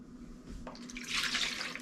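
A cup of soy sauce is poured into a bowl for a trout brine, a brief close liquid splash and trickle that swells toward the end, with no talk.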